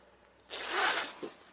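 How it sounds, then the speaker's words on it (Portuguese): A zipper on a sewn fabric pouch is pulled open in one quick, close rasping stroke, with a short tug at the end. "Agora eu vou destacar o zíper."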